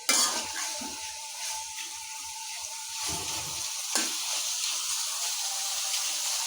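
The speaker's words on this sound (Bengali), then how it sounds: "আমি তেলের উপরে একদম ভেজা ভাজা করে নেব" Chicken pieces frying in hot oil give off a steady, close sizzle with scattered crackles and stirring scrapes, continuous throughout with no one speaking.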